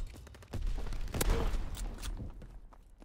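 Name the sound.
shotgun firing in a video game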